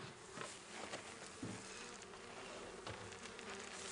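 Field bees buzz around a hive during a nuc transfer, a faint, steady, close swarm hum with individual bees droning past, and no talking.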